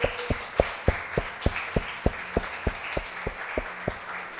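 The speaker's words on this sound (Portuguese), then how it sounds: "Uma salva de palmas ao Senhor." A church congregation claps together in a slow, even rhythm, about three claps per second, with a soft murmur of the crowd underneath and no clear speech.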